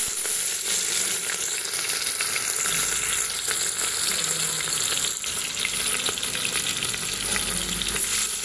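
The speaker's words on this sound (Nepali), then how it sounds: "तेल गरम भइसकेछ। म चाहिँ एड गर्न जाँदैछु खडा मसलाहरू।" Whole spices sizzling in hot oil for biryani, a steady dense crackling hiss throughout, close and even with no pauses.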